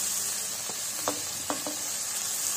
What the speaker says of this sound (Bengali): এবারে পেঁয়াজ ভেজে নেব।